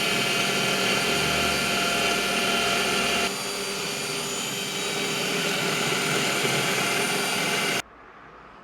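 A power drill drives a fastener bit into the back of a cabinet, whining loudly and steadily for several seconds before it cuts off abruptly.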